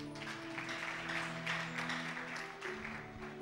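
A church congregation applauding during a French-language sermon, a fairly quiet, steady wash of clapping over a sustained musical drone, with no speech above it.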